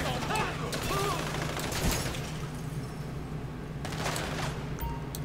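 Gunfire in the video game GTA 5 crackles in scattered bursts of shots, loud at moments and then fading back, over a steady low game hum with some brief in-game voices.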